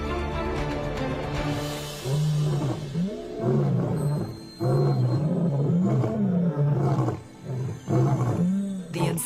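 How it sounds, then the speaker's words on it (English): The Nsefu lion brothers, eight-year-old pride leaders, roar a warning across their land in a series of deep, rhythmic grunting roars that swell and fade, several bouts in a row, close and powerful. "The Nsefu brothers roar a warning to all."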